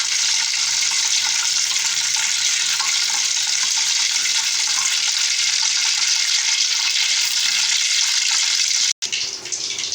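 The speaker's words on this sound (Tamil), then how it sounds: "மீன் வந்து வறுவல் பண்ணுறதுக்கு வந்து எண்ணெய் காய வச்சுட்ருக்கேன்" Oil heating in a pan to fry fish gives a steady, loud, hissing sizzle that holds evenly throughout, briefly cutting out near the end.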